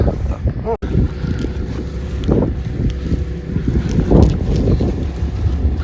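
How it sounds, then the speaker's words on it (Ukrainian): Strong wind buffets the microphone in loud, continuous gusts, rumbling low, with a sharp dropout near the start and a surge around four seconds. "Ну, вітер так піднімається."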